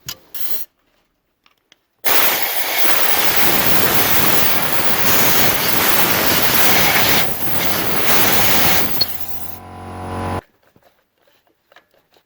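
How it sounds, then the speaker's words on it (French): A steady, loud hiss of a compressed air blow gun blasting dust off the ignition coil area of a 2016 Yamaha Tracer 900 motorcycle, lasting several seconds, then cutting off with a brief tail of airflow. "je vais mettre un coup de soufflette là-dedans avant de démonter la bougie"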